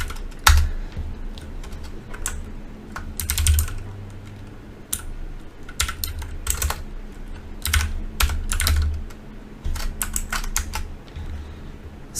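Fingers type a command on a computer keyboard in irregular bursts of sharp, close clicks with brief pauses, heavier key strikes thudding now and then.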